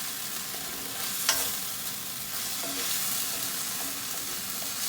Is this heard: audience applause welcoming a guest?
no